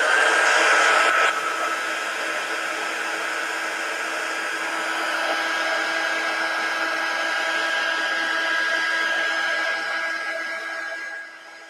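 A hair dryer drying a watercolor painting, a loud continuous blowing whir held close for about eleven seconds, slightly harsher at the start and tapering off at the end, with no talking.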